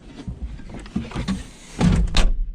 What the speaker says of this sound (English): But door opens and shuts nice.